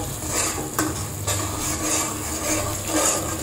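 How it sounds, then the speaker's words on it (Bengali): Masala spice paste stirred and fried in a pan, with a constant close sizzle and scraping spatula strokes repeating in a loose rhythm against the cookware. "মশলাটা ভালো করে কষাই নিতেছি।"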